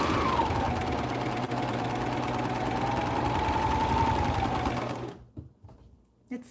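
A Juki MO1000 serger runs hard with a loud, steady mechanical whir, shaking the table beneath it, then cuts off about five seconds in and leaves a few faint knocks.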